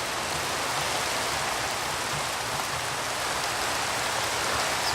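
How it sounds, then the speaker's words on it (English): Rain falls in a video game as a steady, even hiss of many drops, moderately loud and uninterrupted, with no voices over it. "Oh, now it's raining."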